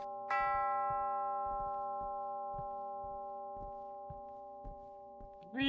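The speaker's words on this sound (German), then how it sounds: "Ding Dong." A doorbell in the horror video game Demonologist chimes clearly, a single ding-dong with long ringing tones that slowly fade, a few soft clicks beneath and a brief louder burst at the end.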